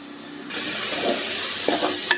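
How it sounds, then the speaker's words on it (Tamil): Mint and coriander leaves drop into hot oil and set off a loud, sudden sizzle that keeps going. A spatula stirs and clinks through it, close up, with no talking. "இப்போ இது எல்லாத்தையுமே ஆயிலை நல்லா வதக்கிக்கோங்க அடிப்பிடிச்சிடாமல் நல்லா வதக்கிக்கோங்க"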